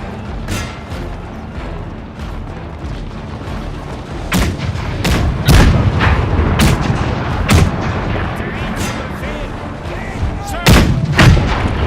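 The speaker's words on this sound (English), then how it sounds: "Cannons roar and lines of men exchange volleys." Cannon fire and musket volleys in a Napoleon Total War Eras Mod battle from the War of the Austrian Succession: repeated heavy booms and crackling gunfire, loud and dense, rolling continuously with sharp blasts spaced every second or so.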